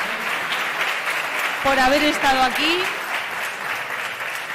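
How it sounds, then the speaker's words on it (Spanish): An audience applauds a cooking presenter at an international Iberian pork forum in Salamanca, where he taught cooking with ham fat; steady clapping runs throughout while someone speaks over it. "vamos a darle un aplauso"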